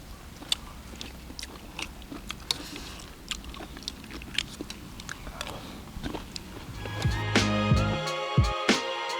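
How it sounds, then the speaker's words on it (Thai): Crunchy pea eggplants being chewed with a duck curry stir-fry flavoured with curry powder, close-up bites and mastication crunches repeating through the clip, getting louder and denser near the end. "เคี้ยวไปกรุบๆแหละ"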